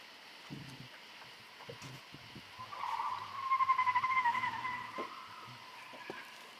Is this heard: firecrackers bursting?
no